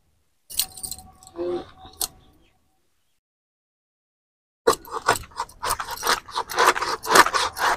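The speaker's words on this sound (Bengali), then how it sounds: "এবারে মাছটাকে কেটে নেব" Silver carp being cut with a knife on a hard surface, scraping and scratching strokes in two bursts separated by a silent gap, the later burst busier and louder with rapid repeated scrapes.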